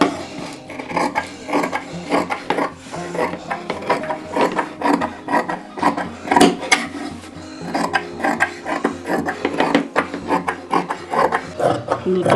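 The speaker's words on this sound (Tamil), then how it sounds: "இப்போ இதை வந்து நம்ம எக்ஸ்ட்ரா இருக்கிற பீஸை கட் பண்ணிக்குவோம்." Scissors snip through fabric lining while a U neck is being cut, giving a close, busy run of crisp rasping cuts and rustling cloth that pulse unevenly throughout.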